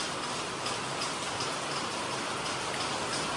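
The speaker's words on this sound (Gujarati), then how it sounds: "વરસાદ પણ હમણાં બંધ થવાનું નામ જ લેતો નથી" Steady rain falls with a constant soft patter and hiss, even and unbroken for a few seconds.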